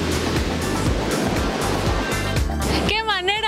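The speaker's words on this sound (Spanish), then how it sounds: "¡Qué relajante es el sonido que emite el mar!" Sea waves rolling onto the beach at Playa Navarro in Vega de Alatorre, Veracruz, a loud steady roar of surf with repeated wash surges and a brief high tonal sound near the end.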